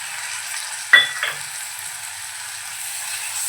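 Chopped tomato goes into a pan of frying onion and chana dal for a Malvani-style recipe, a steady soft sizzle broken by a short clatter and splash near the start, then continuing evenly.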